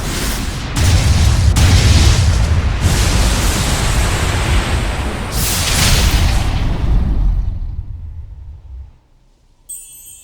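A cannon fires in the video game Tales of Zestiria, a loud booming explosion that roars with a broad rumbling blast for several seconds before fading out, with no speech.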